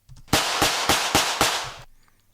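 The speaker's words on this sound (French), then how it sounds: "Les coups de feu." Five loud gunshots from a film soundtrack fire in quick, even succession, each a sharp crack with a short decaying tail, then fade to quiet.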